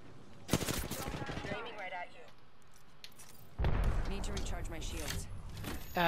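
Video game gunfire comes in two bursts of rapid shots, one early and one in the second half. Talk runs alongside the shooting.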